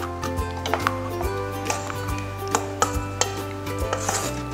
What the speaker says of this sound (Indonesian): Ini aku mau tambahin telur 1, terus kita aduk rata.